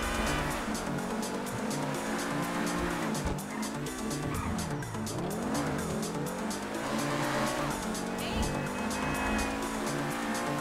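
A car in GTA V Online driven hard, its engine droning and rising and falling in pitch while tires squeal and skid repeatedly throughout, loud and close.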